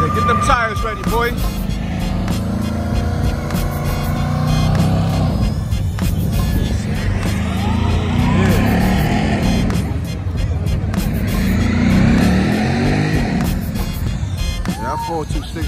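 Three Dodge Hellcat cars revving and drifting together, a loud continuous low engine roar with surging swells and tire noise that shakes the ground, while people talk and shout over it throughout.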